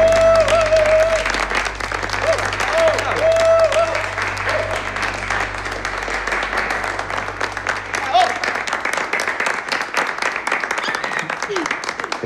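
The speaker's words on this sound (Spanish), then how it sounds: "Un aplauso para la novia, por favor." Guests applaud the arriving bride, sustained clapping from a crowd over the full stretch, with a few voices and cheers mixed in and a low steady hum underneath.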